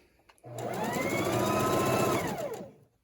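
A sewing machine stitches an envelope pillow in one steady, close, continuous run of about two seconds that starts abruptly and then winds down, with no talking over it.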